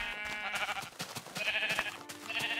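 Sheep in Minecraft Beta bleat several times in quick succession, moderately loud and close over faint game ambience, with no talk.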